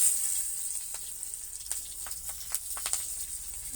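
Bay leaf, green chilli and cumin seeds tempering in hot oil in a kadai, a faint steady sizzle with a few crackling pops scattered through, no talking.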